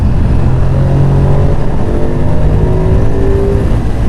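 A Ducati Streetfighter V2 motorcycle engine drones loud and close while riding in fourth gear, a steady throaty roar with slowly rising pitch throughout.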